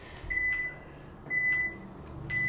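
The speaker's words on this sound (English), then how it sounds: "And that's the buzzer for warm up." Three evenly spaced electronic beeps from a workout timer, each a sustained steady tone, ring out clearly against a quiet background.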